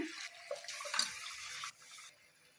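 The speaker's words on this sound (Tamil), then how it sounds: "अभी जो भाजी का पानी है ना वो थोड़ा इसमें ऐड कर लेंगे जार में" Cooking water drained from spinach is poured into a blender jar, giving a steady close splashing pour for over a second that then thins to a trickle.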